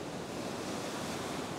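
Ocean surf washes steadily onto a beach during evening fishing, a broad, continuous roar of breaking water with wind noise, filling the whole moment with no talk.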